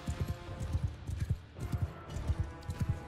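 Horse hooves clip-clop in quick irregular rhythms during a battle in the video game Mount & Blade II: Bannerlord, several mounts moving at once at moderate volume, with a faint murmur of background activity.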